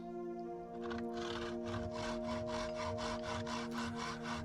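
A handheld saw guided by a MyMiterGrip jig makes a 45 or 22.5 degree miter cut through wood, steady rhythmic back-and-forth strokes rasping close up over a constant low electrical hum.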